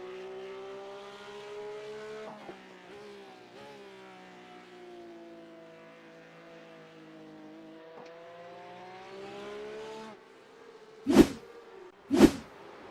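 Porsche Cup race cars lapping Spa-Francorchamps in a sim racing broadcast: a steady engine drone rising and falling through gear changes, with two sharp loud bursts near the end as cars blast past close by.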